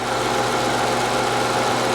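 Infiniti G37xS 3.5 liter engine at idle, a steady, even hum with a low, constant drone and no revving.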